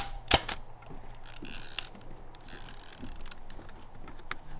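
A film camera fires on a boardwalk in the Eastern Sierra, giving a single crisp shutter click near the start, followed by faint ratcheting mechanical sounds of the film advance against quiet outdoor background.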